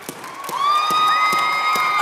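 At a taekwondo school's Christmas party, a crowd cheers and whoops in sustained high-pitched voices, children among them, while scattered claps tap underneath, the noise swelling after a brief start and holding loud.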